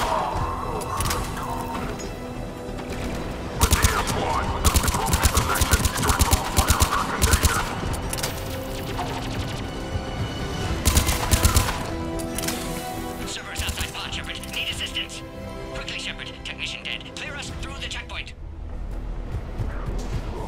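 Gunfire in a firefight in the video game Mass Effect Legendary Edition, with rapid bursts and heavy impacts coming in loud waves over a steady bed of combat noise, while voices talk throughout.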